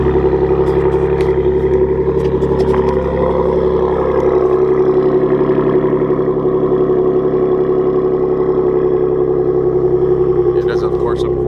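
A Gen 2 Ford Raptor pickup truck engine with CORSA Performance exhaust rumbles steadily at idle with a deep, throaty exhaust note, running loud and close throughout.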